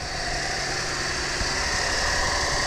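A Cadillac CTS with a 3.6L engine, being checked for a cylinder #2 misfire, runs at a steady idle, producing an even, continuous hum with no breaks, and no one speaks.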